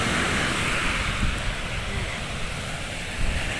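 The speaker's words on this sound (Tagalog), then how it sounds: "yung pagbagsak ng alon, humihigop siya ng alon." Six-foot ocean surf rolls and crashes continuously nearby, a broad steady roar of breaking waves drawing back up the shore, with wind buffeting the microphone.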